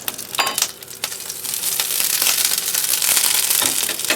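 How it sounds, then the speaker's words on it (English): Clarified butter sizzles and crackles in a hot non-stick pan for crêpes. A few sharp pops come first, then a loud, steady hiss builds and holds close by. "I'm going to add a little bit of clarified butter to it, to the bottom"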